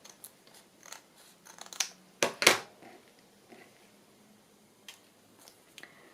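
Scissors trim paper for a journal page in a quiet room, giving a few soft, close snips with a sharper double cut in the middle.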